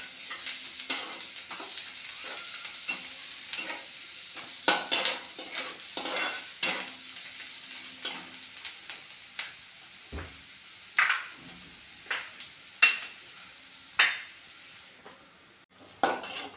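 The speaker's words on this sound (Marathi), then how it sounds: "कांदा चांगला गुलाबी रंगावर परतून घ्यायचा आहे आपल्याला।" Chopped onion sautés in a pan with a soft, steady sizzle, while a spoon stirs and scrapes it repeatedly with sharp, close clinks.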